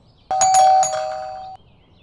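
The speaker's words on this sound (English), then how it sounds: "then you may knock or press the calling bell." A doorbell at a house door chimes once, a loud, clear ding-dong whose ringing tone holds for about a second before cutting off, heard alone in a quiet room.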